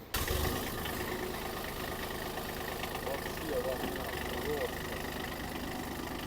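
A small three-cylinder, 15-horsepower Japanese tractor engine idles steadily nearby with an even, chugging rumble, sustained at a constant level with a faint mechanical hum on top.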